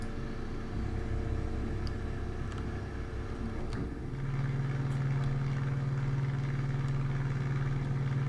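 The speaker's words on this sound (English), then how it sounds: "Same engine sound as the P-47 Thunderbolt." A steady, low droning engine hum of a P-43A-1 WWII fighter plane in War Thunder runs throughout, deepening into a stronger, even tone about halfway through, with no voices.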